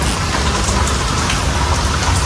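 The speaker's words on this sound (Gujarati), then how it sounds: "જોરદાર વરસાદ આવ્યો ધોધમાર" Heavy rain pours down steadily in a dense, even roar, with no voices and no breaks.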